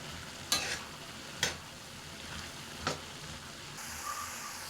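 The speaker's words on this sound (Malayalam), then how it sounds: "നമുക്കിതൊന്ന് ഇളക്കി കൊടുക്കാം" A spatula stirs a papaya and yam stem stir-fry in a pan, giving three sharp scraping strokes over a steady soft sizzle, close and moderately quiet.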